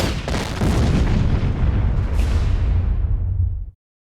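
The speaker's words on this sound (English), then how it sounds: "There, the flammable hydrocarbon mixture violently exploded." A flammable hydrocarbon mixture explodes at the Torrance oil refinery, a loud blast bursting and roaring into a sustained rumble for several seconds, then cutting off abruptly into silence.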